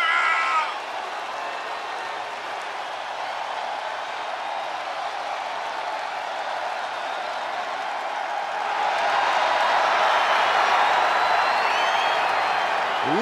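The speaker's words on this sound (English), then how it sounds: "Listen to this ovation." A WWE Elimination Chamber 2024 arena crowd roars in an ovation for Belair during the women's Elimination Chamber match, a dense wash of cheering that swells louder toward the end, with commentary voices under it.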